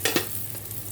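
Aloo paratha cooking on a hot griddle gives a brief, close sizzle with a couple of quick scraping touches at the start, then a steady soft frying hiss.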